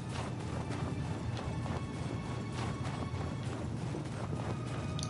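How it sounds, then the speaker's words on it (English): A horse gallops across desert sands in the Darksiders video game, with rapid rhythmic hoofbeats under a loud, dense game soundtrack and effects. "I can use the horse to ride on the sands and escape the worm."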